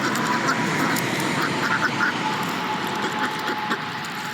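Domestic ducks ranging on a homestead quack in a loud, continuous clamor close by, with bright repeated calls layered over a rough outdoor wash.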